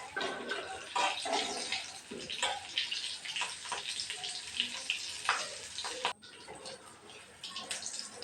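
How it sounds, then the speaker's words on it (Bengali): Potato patties fry in hot oil in a home kitchen, a close, bright, crackling sizzle with uneven bursts and a brief dip near the end. "আর একটু লাল করে ভেজে তুলে নেব"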